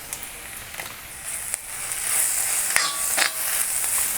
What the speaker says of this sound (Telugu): కొంచెం వేగనివ్వాలండి, 1-2 నిమిషాలు.